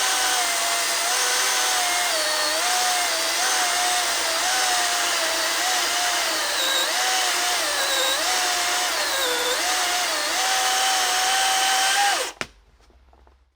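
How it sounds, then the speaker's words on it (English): A DeWalt DCM575N 54-volt brushless cordless chainsaw cutting a thick tree trunk whines loudly and continuously with a slightly wavering pitch, then abruptly stops near the end. "even for this powerful 54-volt chainsaw"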